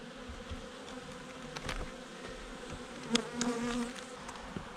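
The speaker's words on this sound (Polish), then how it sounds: "teraz sobie strząsnę pszczoły z powałki, bo mam ich trochę tutaj" Honeybees buzz around an open beehive in an apiary while a beekeeper works the colony. Their soft, wavering drone hangs close and faint, broken by a few light knocks and clicks from handling the hive.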